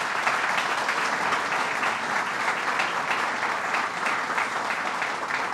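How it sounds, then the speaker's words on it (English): Sustained audience applause fills a brewery expansion announcement event in Rochester, a dense, even wash of clapping hands that continues steadily throughout without pause. "If you could please give them a round of applause."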